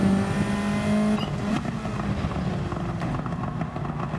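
A race car engine in fourth gear in Gran Turismo 7 drones loudly and steadily, a sustained close whine that shifts pitch briefly partway through, then carries on as a continuous roar with no voices.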